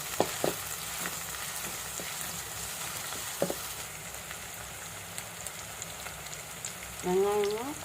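Onions, coriander and curry leaves fry in hot oil for a karapodi fish gravy, giving a steady close sizzle with scattered clicks and pops of stirring and a brief louder tonal sound near the end.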